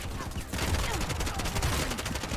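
Gunfire in the video game Bright Memory Infinite comes in loud, rapid bursts of sharp cracks that repeat across the whole stretch, sounding close.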